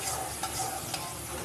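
Fish curry gravy sautéing in a pan, giving a steady close sizzle with soft stirring scrapes throughout and no talk.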